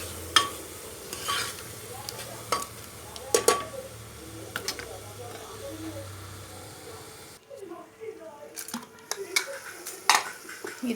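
Spiced masala for a pointed gourd and potato curry cooks in a pan over a medium-low flame, a soft sizzle under repeated sharp spatula clinks and scrapes against the metal, with a quiet pause near the end.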